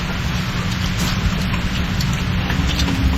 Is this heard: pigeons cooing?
no